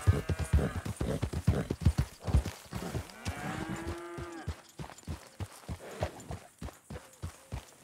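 Rhythmic horse hoofbeats clip-clop steadily and up close in Red Dead Redemption 2, with a drawn-out animal call rising in the middle, then the hooves carry on.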